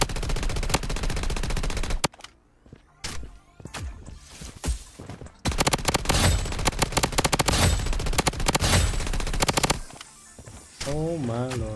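The KAG-6 gun fires tracer ammo in a video game, with dense rapid automatic bursts, a brief lull of scattered shots, then another sustained loud stream of fire while a person talks excitedly.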